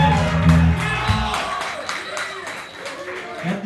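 Concert crowd at a band marathon applauding the bass player, Tian, with a broad wash of clapping mixed with cheers and shouts, a loud bass note at the start and voices over it.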